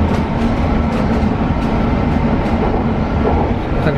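London Underground metro train riding, a loud steady rumble and roar of the carriage in motion with faint clatter, no talking.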